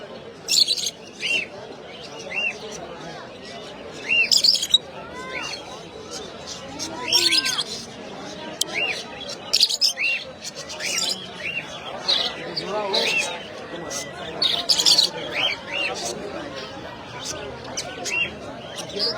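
Many small birds for sale chirp and tweet in quick scattered bursts amid a murmur of people talking at a busy bird market.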